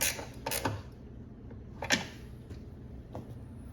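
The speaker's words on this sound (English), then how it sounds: "take your ratchet wrench and then tighten it down." A ratchet wrench tightening the battery bracket on a Porsche GT4 gives a few short, quiet clicking and creaking bursts spaced apart, close by, with no talking.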